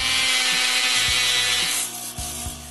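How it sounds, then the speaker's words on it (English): A Dremel rotary tool on a flexible shaft sanding small shaped wooden pieces gives a steady, loud, high-pitched grinding whine. The pitch and pressure shift slightly as the abrasive rubs against the wood. "I start to sand them with a Dremel and a flexible shaft"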